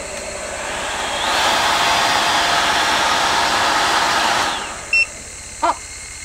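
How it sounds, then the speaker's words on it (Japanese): A hair dryer powered by an EcoFlow DELTA mini portable power station blows with a steady loud whoosh for about three seconds, then cuts out abruptly as the unit shuts off, followed by two short electronic beeps. "じゃあドライヤー行くね。"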